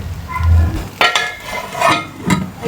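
A lid set onto a pot of spicy bhindi on a low flame, giving a few close metallic clinks and a scrape of metal on metal, loud and alone.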